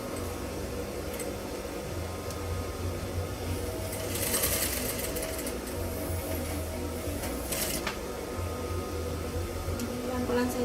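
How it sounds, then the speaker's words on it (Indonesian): A domestic sewing machine stitches a half-circle skirt, its steady mechanical whirr running continuously and close, with brief brighter rattles partway through. "Jadi kita jahit dari sisi bagusnya"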